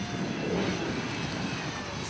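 A 4.8 litre turbo petrol winch truck at a 4x4 sprint stage course, driving off with a dense, continuous engine roar that stays loud and steady throughout the short stretch.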